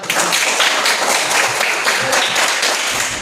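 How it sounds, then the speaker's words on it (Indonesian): Sustained clapping from a classroom of students fills the whole stretch, dense and steady with scattered individual claps standing out, loud and close with no talk over it. "Ya, tepuk tangan."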